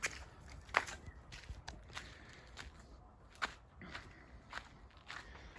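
Footsteps crunch along a garden at an uneven walking pace, faint and close, with occasional sharper scuffs.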